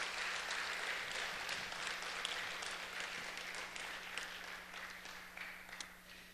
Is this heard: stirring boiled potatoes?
no